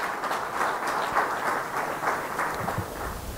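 Audience applause at a Telugu Christian gathering, steady mid-level clapping from a crowd without speech over it.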